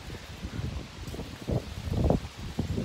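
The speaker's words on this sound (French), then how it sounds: "Il y a du vent" Gusty wind blows outdoors at dusk, a low rumbling buffet against the microphone that swells in uneven bursts, with faint rustling and no voices.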